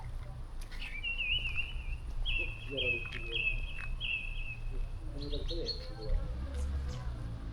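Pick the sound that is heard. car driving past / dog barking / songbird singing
songbird singing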